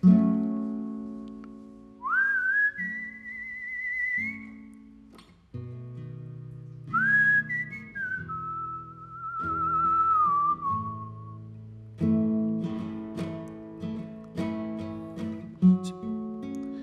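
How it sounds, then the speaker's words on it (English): A person whistles a slow, sustained melody with gliding pitch during a live performance, over soft instrumental backing with sparse chords. "I like that whistle so much"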